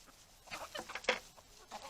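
Backyard chickens clucking close by, soft short clucks and murmurs in quick irregular succession with one sharper cluck midway, faint overall and with no talk.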